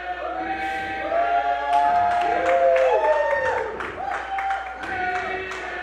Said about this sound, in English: The crowd here at the Goldmine's getting pumped.